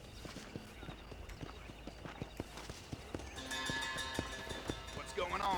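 A horse's hooves clip-clop in a steady walking rhythm, close and distinct, growing busier toward the end with a brief whinny-like sound.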